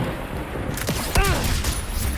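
Gunfire in Wuthering Waves, a quick burst of shots with a ringing tonal impact, set over a dense, loud game soundscape.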